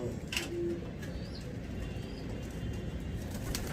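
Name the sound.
pigeons cooing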